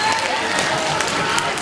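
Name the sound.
audience applause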